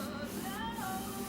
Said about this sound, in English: spray some white and just repriming it so that when I put my color on it, it's more uniform